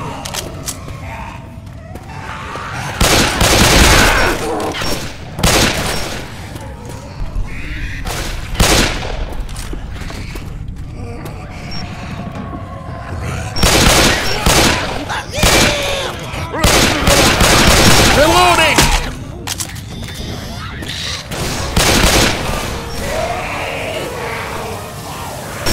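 Gunfire on the Barge level of Left 4 Dead 2: loud clustered bursts of rifle and automatic fire rattle in uneven volleys with pauses between, mixed with shouting voices.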